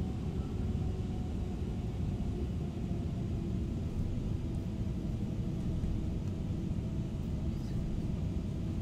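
An airplane taxiing in a flight simulator game, a continuous loud low engine rumble with a steady broadband roar, unchanging and alone throughout.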